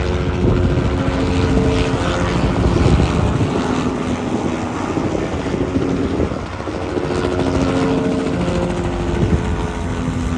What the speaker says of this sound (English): swarms of helicopters periodically, which pretty much fill the sky non-stop.